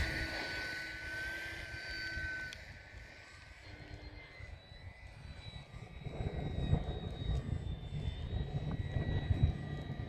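Small Su-26 3D model airplane with a propeller engine droning steadily while hovering, pitch wavering and the engine swelling louder toward the end, close by and with no talk.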